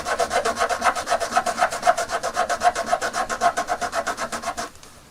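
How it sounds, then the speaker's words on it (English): A Lego piece filed by hand while being rolled: quick, evenly rhythmic rasping strokes, loud and close, around twenty in a row before stopping abruptly. "Now the trick with this is to sort of roll the piece of Lego as you're filing"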